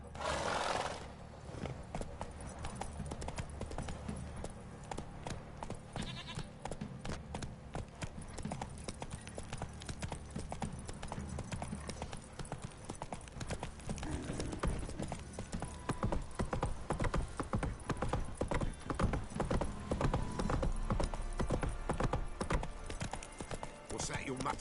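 Hooves clip-clop steadily as a horse is ridden in The Witcher 3, with a whinny near the start. Dialogue and game sound run under the rhythmic hoofbeats throughout.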